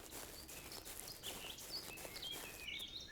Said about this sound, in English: There's a bird on top of my house.